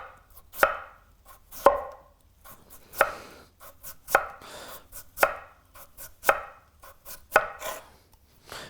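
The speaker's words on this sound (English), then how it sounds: "Point the knife slightly away from you rather than in, then it's never going to cut you and you're going to get nice thin pieces." A knife slices food into thin pieces on a cutting board, about a dozen crisp, evenly spaced chops close up and alone, each with a sharp wooden tap.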